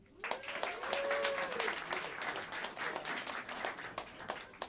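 Jazz club audience at Smalls in New York City applauding the upright bassist, a dense, steady wash of clapping from a crowd that holds loud throughout, with a few brief whistles rising near the start.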